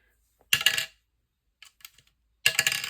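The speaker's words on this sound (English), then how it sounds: "So it's an 8-sided dice." Eight-sided die rolled on a hard surface: a sharp clattering tumble, a couple of faint ticks, then a second clattering roll, close and clear with quiet gaps.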